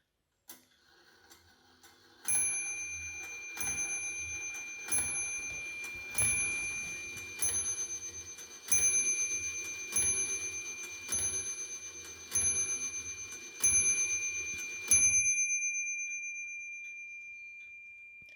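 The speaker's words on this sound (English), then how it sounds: "let you enjoy the 11 o'clock chimes" An antique clock strikes eleven o'clock. Bright, ringing chimes fall in a steady series of about ten evenly spaced strokes, each decaying before the next, in a quiet room. The last stroke fades out slowly.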